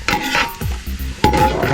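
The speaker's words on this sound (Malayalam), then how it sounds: "നമ്മൾ തേങ്ങക്കൊത്ത് ഇട്ട് കൊടുത്തിട്ടുണ്ട്. തേങ്ങ വറുത്ത് പോവുക." Coconut pieces frying in coconut oil while being stirred: a loud close sizzle broken by metal scraping and clinks of the spoon in the pan.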